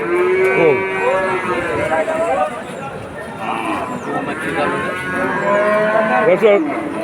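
Cattle moo repeatedly at a cattle market in Monirampur, long drawn-out lowing calls from several animals close by, over a busy crowd murmur with people talking.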